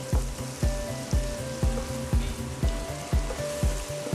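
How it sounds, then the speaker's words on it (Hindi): Spices and onions fry in a pan for egg fried rice with a loud, close, constant sizzle, and a spoon stirs and scrapes through them in a steady rhythm about twice a second. "अब मसालों को प्याज के साथ खाली हम 2 से 3 मिनट तक भूनेंगे।"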